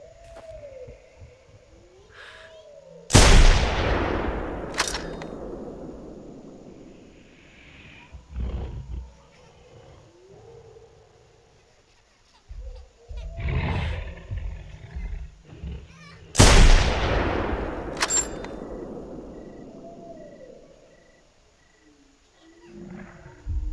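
Two loud, sharp gunshots ring out at a T-Rex in the hunting game theHunter: Primal, each a sudden crack with a long decaying tail, separated by quieter rustling and low creature sounds.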